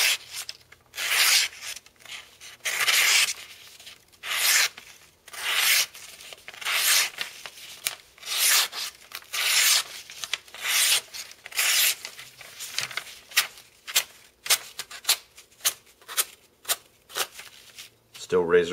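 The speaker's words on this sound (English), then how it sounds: "let's go ahead and do a quick cutting demonstration here" A factory-edge Spyderco Chaparral knife in CPM S30V steel slicing through material in a cutting demonstration, a series of close, crisp rasping strokes in fairly even rhythm.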